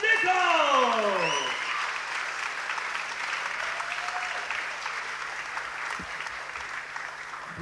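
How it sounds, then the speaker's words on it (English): Crowd applause after the under 90 kg title bout in Glasgow, steady clapping that continues under a loud announcer's voice at the start and carries on alone. "Ladies and gentlemen, your winner for the under 90 kilo title from Grip House, Cameron Nicol."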